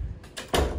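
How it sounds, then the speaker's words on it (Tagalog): A door swinging shut indoors in a home, a soft movement followed by a solid thump near the end, close and fairly loud with no voices. "sara natin yung pinto"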